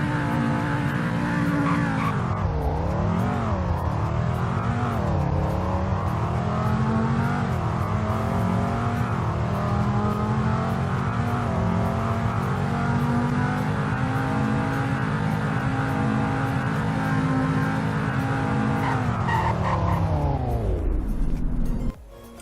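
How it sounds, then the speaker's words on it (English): Car in the Roblox game Greenville running a 0 to 100 acceleration and braking test: a brief rev dip, then a long rising engine pull that holds high and loud before dropping off sharply as it brakes to a stop. "Here is a 0 to 100 in braking test."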